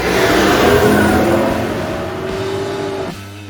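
An Audi A8 D2 sedan's 3.7 V8 engine accelerates hard, its loud steady roar climbing in pitch for about three seconds before easing off to a lower hum.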